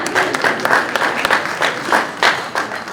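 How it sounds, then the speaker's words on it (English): Audience clapping at an elementary school ribbon-cutting ceremony, close and loud with distinct individual hand claps in an uneven rhythm over a few seconds. "Notice who is clapping the loudest over here are members of the Board of Select."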